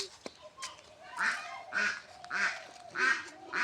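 A freshly slaughtered duck gives a string of about four loud, harsh quacks at an even pace, each a short nasal burst, heard close up outdoors.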